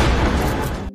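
A single loud pistol shot bursts out close by, a heavy boom that decays quickly and then cuts to silence.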